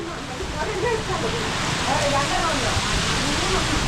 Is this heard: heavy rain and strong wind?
yes